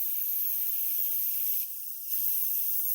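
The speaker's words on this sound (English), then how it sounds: "Put the cap on, and I am going to spray" An airbrush being cleaned sprays water out in a steady, close hiss that briefly cuts out and then resumes, with faint low clicks underneath.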